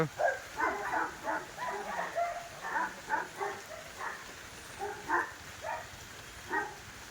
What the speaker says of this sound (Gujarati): જો નાનો કૂતરું પણ છે